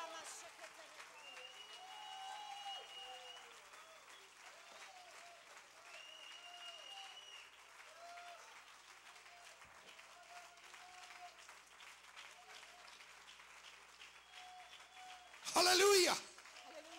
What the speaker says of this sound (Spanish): Aplauda, haga algo, aplauda y haga algo.